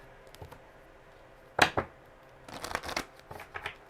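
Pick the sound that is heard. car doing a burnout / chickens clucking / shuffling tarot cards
shuffling tarot cards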